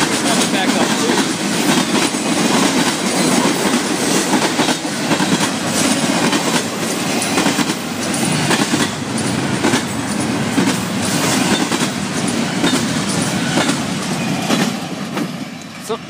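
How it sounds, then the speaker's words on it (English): A Florida East Coast freight train hauling lumber rolls past close by, a loud continuous rumble with rhythmic clickety-clack of wheels on rail joints throughout, with no talk over it. "Not so much of a long train, but it's still worth catching."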